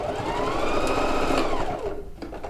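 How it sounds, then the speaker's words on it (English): A sewing machine back-stitching a quilted coat, a loud close continuous mechanical whir that winds down and stops near the end, with no talking. "I'm going to give that a back stitch."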